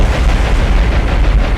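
Bombs explode against a cruiser in the naval combat game War on the Sea, a steady, loud low rumble of blasts and booming rolling on without a break.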